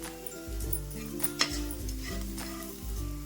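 Cumin powder, garam masala and salt stirred into a frying mixture in a pan, with a steady sizzle and a few scraping stirs, near and fairly quiet, no talk.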